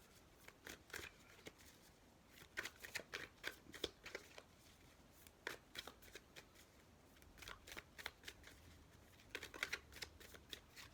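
Tarot cards shuffled for a 12 card birthday spread, soft repeated riffles and card flicks in clustered bursts, close and quiet, with no speech.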